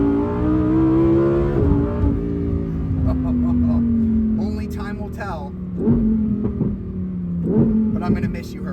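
A 2023 Lamborghini Huracan Tecnica V10 revs hard and close, rising through several gear pulls with sharp shifts and crackling bursts between them, under a talking voice.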